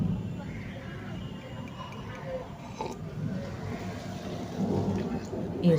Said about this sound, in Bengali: ওই দেখো বৃষ্টি পড়ছে, ঝিমঝিম করে, আর চিরচির করে পড়ছে, আর মেঘের গর্জন দেখো বাইরে